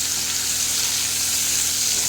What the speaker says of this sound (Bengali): পেঁয়াজ ভাজা হচ্ছে।